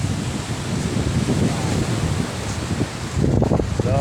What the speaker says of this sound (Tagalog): Namumuti-muti yung alon, oh.